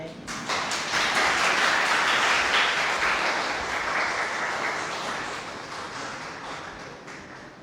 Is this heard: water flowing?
no